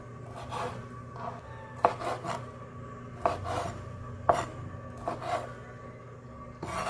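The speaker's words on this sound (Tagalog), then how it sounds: "dahil po medyo malaki po itong ating hipon na nabili, kaya ikakat po natin ito" A knife chops through large shrimp on a cutting board for a Filipino-style carbonara, giving about eight sharp, close chopping strikes at an uneven pace with no talking.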